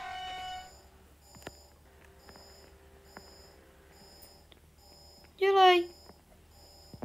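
An electronic alarm sounds in the Roblox game Shrek in the Backrooms, repeating short high beeps at a regular pulse while a voice briefly shouts over it near the end.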